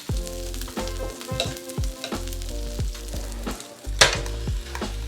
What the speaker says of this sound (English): That sizzle is amazing